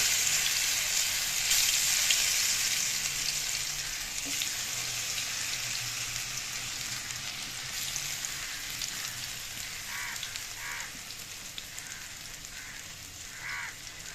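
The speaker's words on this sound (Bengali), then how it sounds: "এই মিষ্টি কুমড়াগুলোকে তেলের মধ্যে আস্তে আস্তে ছেড়ে দেব।" Thin slices of sweet pumpkin sizzling and crackling in hot oil, a steady close frying hiss with small pops, and a few brief higher clinks toward the end.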